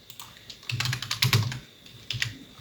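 Fingers type on a computer keyboard, close and moderately loud, in short bursts of quick clicking keystrokes with brief pauses between them.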